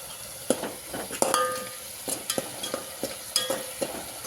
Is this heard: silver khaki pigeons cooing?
no